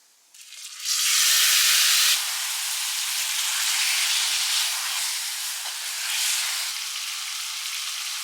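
Marinated prawns hitting a hot pan with golden onions, an abrupt loud burst of sizzling that then settles into a steady, slightly fluctuating fry hiss, close and with no talk.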